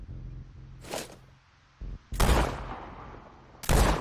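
Gunfire in the video game Sniper Ghost Warrior Contracts: three loud, separate rifle shots about a second apart, each a sharp crack with a short ringing tail, over quiet background sounds.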